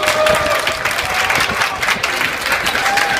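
Studio audience applauding on a Spanish-language television show, with crowd noise and a few cheers mixed into steady, loud clapping throughout.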